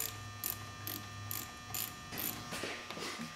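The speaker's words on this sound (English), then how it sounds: "I just disconnected the positive cable off the starter. I used a 10mm gear wrench to do that." A 10mm gear wrench ratchets off the positive starter cable on a 2002 Polaris Ranger 500, producing a series of short, quick clicking bursts at close range, with a steady electrical hum running underneath.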